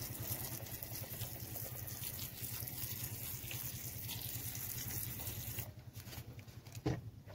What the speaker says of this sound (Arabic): نرش عليه ميه